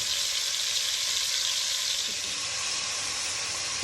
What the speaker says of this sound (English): We continue to brown the beef right now to a nice caramelized edges.